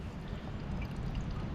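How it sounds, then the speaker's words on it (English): Filtered water poured from a filter bag into a large water bottle at a naturist beach wildcamp, a steady close trickle and splash running without pause, with no talking. "I'm just topping up my big water bottle here from the water filter bag."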